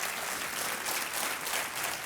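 Studio audience applause on the KBC (Kaun Banega Crorepati) quiz show, a steady, dense wash of clapping filling the room without pause, with no talk over it.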